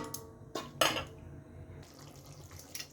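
Rinse water from a mixer jar splashes as it is poured into a chicken green curry, a few short bursts of pouring and clinks close by over a low kitchen background.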